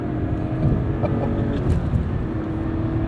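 A BMW E36 M3 Lightweight accelerates hard past a Kia, its engine a steady, loud drone with a strained, rising note that holds for the full three seconds and carries no voices.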